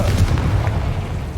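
Deep booming blasts from a Confringo blasting spell in the Hogwarts Legacy video game, with heavy low rumble and several loud overlapping impacts across a short stretch, no voices.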